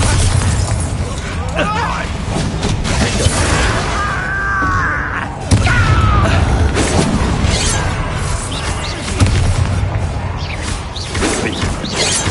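Chaotic combat in Hogwarts Legacy with the Bombarda blasting spell: continuous loud crashes, pops and bursts with a sharp impact near the middle, overlapped by voices talking.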